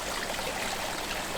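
A garden pond's waterfall sends a steady, broadband rush of flowing water into the pond, constant and unbroken throughout, with no voices.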